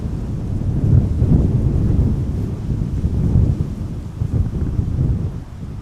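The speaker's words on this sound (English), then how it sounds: "The wind has increased a little bit, 19 knots right now." Strong gusty wind at Amsterdam Schiphol Airport, a deep rumbling roar buffeting the microphone in uneven surges, steady and close, with no other sounds clearly standing out.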